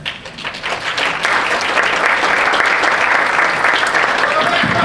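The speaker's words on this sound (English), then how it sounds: "Those are golf claps." Audience at a Cedar Point Q&A event giving a round of light, polite golf claps, steady scattered clapping from a crowd that swells and holds for several seconds.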